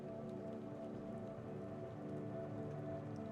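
Rain in the video game Dispatch during a flooding emergency with a burning tanker, a soft, even patter over a low steady hum, faint and continuous with no voices.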